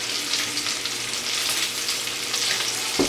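Bacon frying in a pan on a home stove makes a steady, close crackling sizzle that continues throughout, ending with a brief knock.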